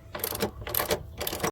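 A hand ratchet clicks in three quick bursts while loosening motor mount bolts on a Ford Focus with a manual transmission, close and fairly quiet.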